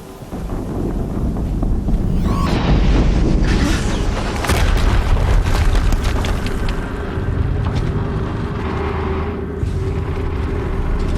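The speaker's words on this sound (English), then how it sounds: "Another explosion." Loud explosion booms rumble through the scene, with heavy low-end blasts and sharp impacts over a constant windy, roaring background.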